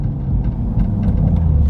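A 2020 Toyota Supra fitted with a straight-pipe exhaust accelerates hard, its loud, deep engine rumble and roar continuous and close throughout, with no talking.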